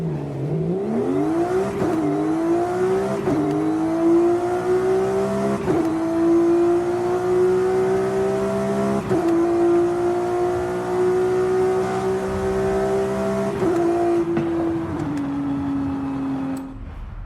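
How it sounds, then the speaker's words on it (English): A Porsche GT3 RS in Forza Horizon 5, with an eight-speed gearbox, revs up and shifts through several gears, with a loud engine drone and a steady whine over the top before the revs drop near the end. "the gear whine is actually part of the engine sound"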